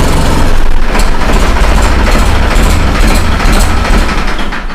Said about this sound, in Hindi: ट्रैक्टर है फ्लैट फ्लैट तो देखो भाई इतना शानदार आवाज़ है